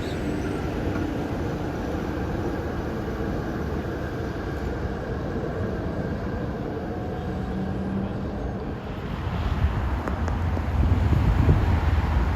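A historic PCC streetcar trolley on the San Francisco Muni F Line, heard outdoors across from a pier, gives a low steady rumble with wind noise that swells louder near the end as the car draws close.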